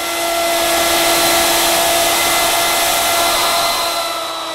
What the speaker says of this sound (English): be sure to keep the router edge guide positioned against the back edge of the countertop while cutting